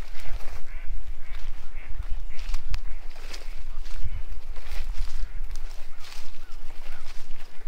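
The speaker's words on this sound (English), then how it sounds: "Some ducks over here." Ducks quacking near a clear pond on a hiking trail, scattered quacks over outdoor rustling and footsteps, moderately close.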